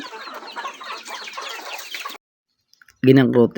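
Chicken clucking and squawking, a busy flurry followed by a brief pause and then a loud nearby call.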